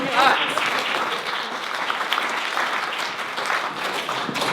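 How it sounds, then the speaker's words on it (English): A small audience at an arts talk claps for a few seconds, a dense patter of hands filling the room. A speaker's voice carries over the clapping. "Yeah, round of applause."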